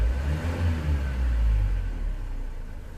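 A 2007 Renault Trafic van with the M9R 2.0 diesel engine, which has an air flow meter fault, revving briefly when the throttle is pressed, a low close rumble that swells and then eases off.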